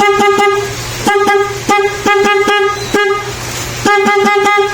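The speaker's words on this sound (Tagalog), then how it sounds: "ito po yung busina niya, oh" A Mio motorcycle horn honks repeatedly in short bursts, loud and close, with brief gaps between toots and an engine idling underneath.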